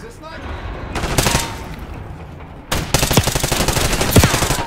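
Rapid automatic fire from a classic Tommy gun in a first-person shooter match, loud, close bursts in two main stretches with brief gaps between them, over a steady game background.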